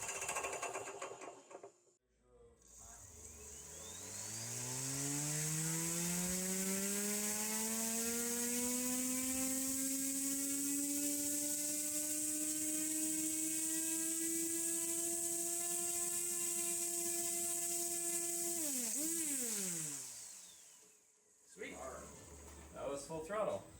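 A homemade electric motor spins a propeller up to full throttle, its whine rising steadily in pitch over several seconds, then holding a loud, even hum before winding down with a brief wobble and dropping away.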